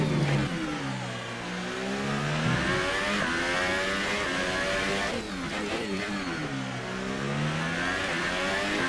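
A Formula 1 racing car in the game F1 2018 revs loud and close, its engine pitch sweeping up and down through repeated gear shifts for the whole stretch.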